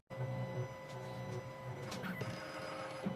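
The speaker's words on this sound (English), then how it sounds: "The machine is decoding the lateral side." A CNC key cutting machine decodes the side of an original Citroen SX9 key, producing a steady close mechanical whir and hum with a few faint clicks and knocks throughout and no talk.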